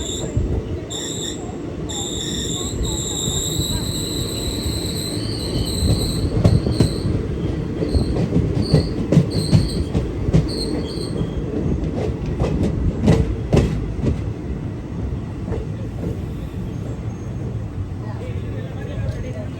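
The Kanniyakumari SF Express passenger train rolls along the rails near Jolarpettai Junction, with a loud, continuous rumble, rhythmic wheel clatter and sharp squeals, while a voice talks over it.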